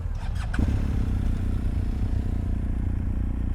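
Motorcycle pulling away on a touring ride in Türkiye: a steady low engine rumble builds after a brief clatter, close and continuous with no talking.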